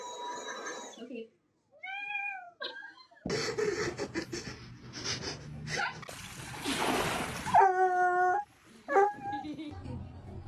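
A cat meows several times in short, clear, rising calls, close by and fairly loud, alongside a dog's whimpers and yips in a busy household, with people talking and rustling in between.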